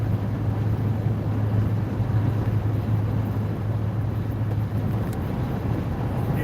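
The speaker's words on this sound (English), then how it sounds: "It's like driving a brick, driving a Jeep." Steady engine drone and road roar from a Jeep cruising along a road, a constant loud rumble with wind noise and no breaks or changes in pace.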